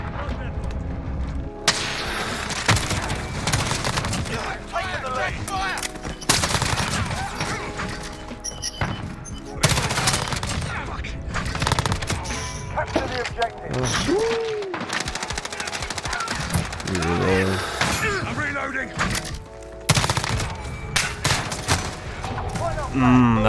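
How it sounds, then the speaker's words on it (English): Rapid bursts of M13 rifle fire with yellow tracer rounds in Call of Duty Modern Warfare, repeated loud gunfire volleys and thuds across a busy match, with a voice talking over parts of it. "Yellow tracer fire, by the way."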